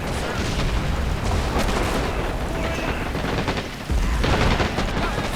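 Artillery and gunfire in a World War II battle at Le Shima beach in Men of War: Assault Squad 2, a dense roar of booming blasts and crackling shots, with a heavy impact near the end.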